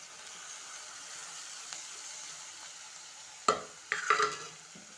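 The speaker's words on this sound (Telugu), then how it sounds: "టమాటా వేసి ఇలా కలిపేసుకోవాలి లేకుంటే అడగంటుంది కదా" Tomatoes stirred into a curry frying in oil, with a steady low sizzle throughout and a few close scraping stirs of the spoon near the end.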